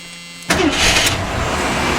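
After a short quiet hum, a car engine abruptly cranks and catches, then settles into a steady close idle.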